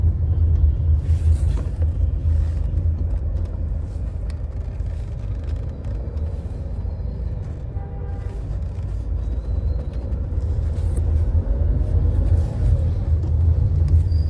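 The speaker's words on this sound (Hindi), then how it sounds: "अब आप ट्रैफिक देख रहे हो ना" Road traffic heard from inside a car: a steady low engine and tyre rumble with passing vehicle noise, continuous and fairly loud throughout, with no talking.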